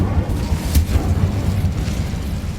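A fire spell cast in Hogwarts Legacy on PS5 erupts as a loud, booming whoosh with a sharp flare partway through, over a dense low rumble lasting a couple of seconds.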